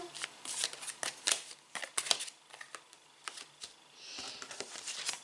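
Tarot cards are flipped and slid across a table one after another, producing quick, crisp close snaps and papery rustles in an uneven rhythm, with a brief soft brushing sound near the end.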